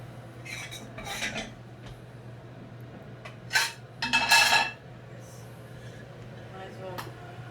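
Penne egg fried rice is spooned onto plates, with several scraping clinks of utensil against dish in short bursts over a steady low hum.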